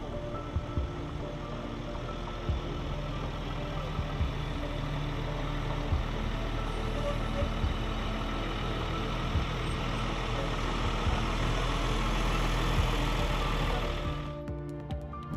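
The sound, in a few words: fire engine idling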